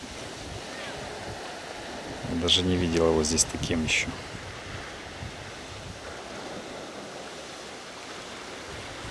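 Calm sea waves washing gently onto the shore of a Spanish coastal resort, a soft steady surf wash with wind noise on the microphone and someone speaking briefly over it.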